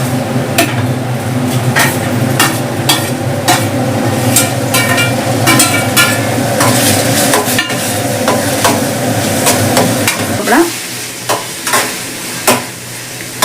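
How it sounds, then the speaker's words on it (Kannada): Chopped tomatoes stirred into onions already frying in a pan for gravy: a steady loud sizzle with repeated scraping and clinks of the spoon against the pan, close up, easing off near the end into a few separate knocks. "ಈಗ ಟೊಮೆಟೊ ಹಾಕ್ತಾ ಇದ್ದೀನಿ."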